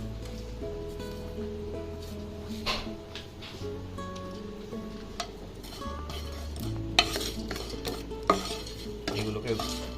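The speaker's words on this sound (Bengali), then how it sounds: "এগুলোকে ভালো করে রোস্ট করে নিয়ে গুঁড়িয়ে নিয়ে বিরিয়ানি মশলাটা রেডি হবে।" Whole spices dry roasting and being stirred in a pan for Bengali chicken biryani masala, a steady scraping, rustling stir with light clinks of the utensil against the pan, close and continuous.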